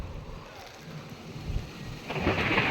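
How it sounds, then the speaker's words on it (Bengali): Thunderstorm raging outdoors in a Bengali village home, a dense wash of rain and wind with low rumbling thunder that swells louder toward the end, steady and enveloping with no voices. "জোরসে ঝড় উঠেছে বাইরে"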